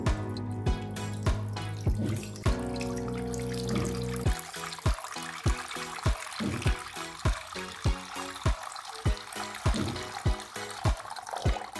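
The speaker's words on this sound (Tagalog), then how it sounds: "lagyan natin ng tubig" Tap water runs steadily into a pot for boiling artichokes, a continuous close splashing flow that deepens in tone as the pot fills, with regular rhythmic knocks throughout.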